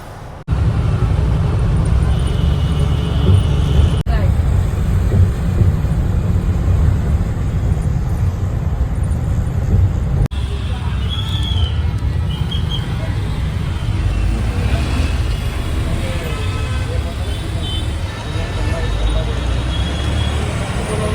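A travel bus pulling into a stop at Malad, Mumbai, gives a loud steady engine drone and road rumble with passing traffic, while someone talks over the noise.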